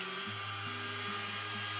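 A bandsaw sharpener's electric motor kicks on after a brief pause and settles into a steady, close, droning hum with a low buzzing tone, running alone without talk.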